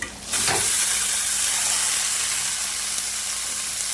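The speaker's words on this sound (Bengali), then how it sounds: "মশলাটা একটু কষিয়ে নিয়েছি। এবার মোচাটা দিয়ে দেবো।" Chopped banana flower drops into fried spices and potato in a pan, and a brief stirring clatter gives way to a loud, steady sizzle and hiss up close.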